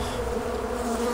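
Dense, steady buzzing of a swarm of bees in a VRChat horror map, close and continuous with no voices over it.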